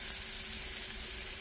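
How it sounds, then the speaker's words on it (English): Bacon browns in a pan with a soft, even, continuous sizzle that holds steady for a brief moment, close but fairly quiet. "I'm going to let it brown just a little bit"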